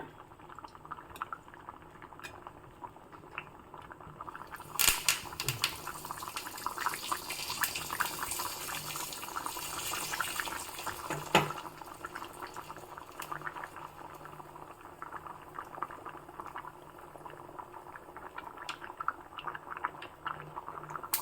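Mangalore-style Brahmin huli curry boils steadily in a pot, with continuous bubbling and popping throughout and a couple of louder splashy bursts partway through.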